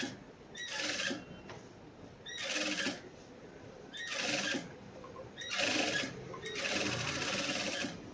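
A sewing machine stitching the back lining of a blouse, with five bursts of fast, close mechanical whirring separated by short pauses, no one speaking.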